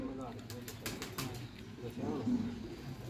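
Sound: high flyer pigeon cooing

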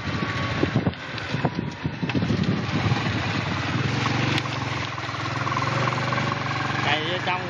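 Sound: motorcycle engine running during test ride

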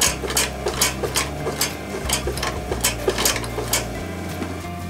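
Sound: sewing machine stitching a ski boot's calf padding

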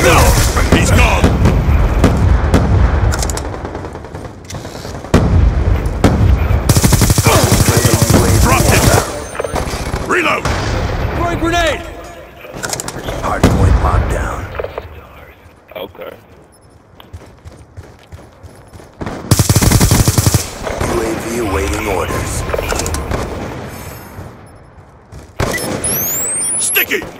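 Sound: gunfire in the video game Call of Duty: Black Ops 2

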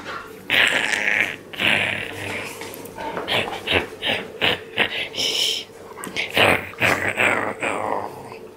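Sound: dogs greeting owner

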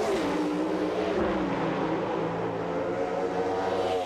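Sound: Pro Stock drag race cars racing, from Drag Racing '99 video game

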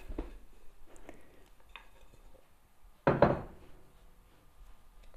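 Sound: dough placed on a floured work surface

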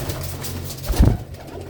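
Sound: pigeons cooing

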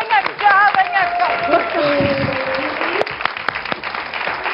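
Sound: audience applause in a TV studio

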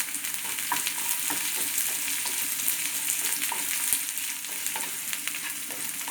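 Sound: chilies and shallots frying in oil for taro stem curry

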